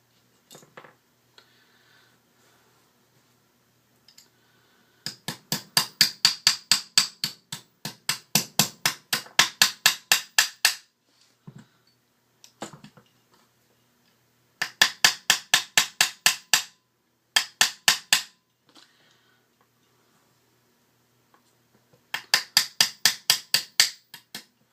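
Rapid series of sharp metallic hammer taps driving anti-rotation pins into place, in bursts of steady rhythm, separated by pauses and a few single knocks, close and fairly loud.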